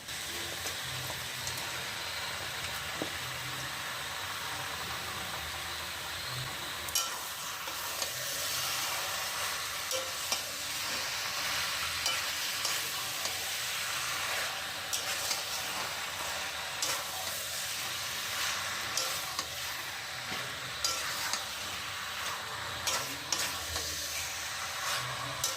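Medium-sized unmarinated chicken pieces sizzle steadily in a hot pan while being cooked down for chicken kosha, a continuous close hiss broken by frequent scraping and clinking of a stirring spoon.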